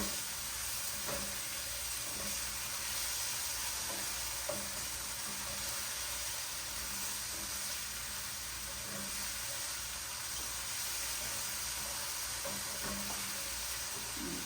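Chicken with minced garlic sizzles in a pan, a steady frying hiss running throughout with faint scrapes and taps of a utensil stirring.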